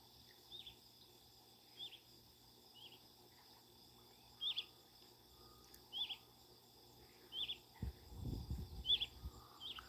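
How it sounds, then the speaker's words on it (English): Crickets and birds chirp outdoors in a quiet natural setting, with short repeated high chirps spaced every second or so, faint and steady, joined near the end by a louder low rustling or thumping. "This is peaceful. Crickets, birds, you name it."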